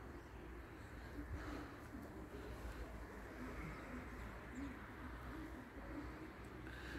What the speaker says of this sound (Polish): Moje gołębie.